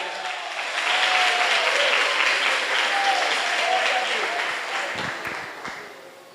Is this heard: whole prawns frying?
no